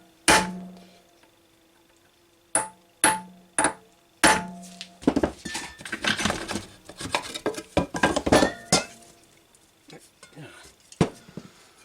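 Metal tools clinking and clanking while a pulley is pulled off the motor of a Transportel electric moped under renovation: several sharp, separate metallic clinks, then a busier stretch of scraping, tapping and rattling, close and fairly loud.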